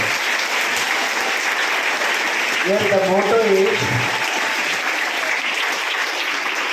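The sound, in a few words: audience applause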